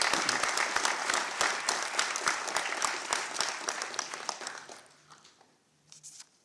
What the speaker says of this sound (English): For this, I invite you to give a round of applause.